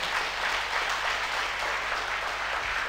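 An audience at a Thai company business-plan meeting breaks into sustained applause, a dense, even wash of many hands clapping that stays loud from start to finish with no voices.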